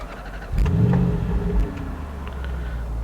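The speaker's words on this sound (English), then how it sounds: "when you start up this car, everything sort of moves towards the driver and it sort of snugs you in" A 2017 Range Rover Sport SVR engine cranks and fires up with a brief loud rev and deep rumble, then settles into a steady idle while the seat and steering wheel motor quietly forward.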